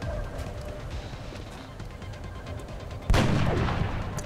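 A sniper rifle fires once in XCOM Enemy Within, a sudden sharp blast partway through that rings out in a short tail over quiet game ambience.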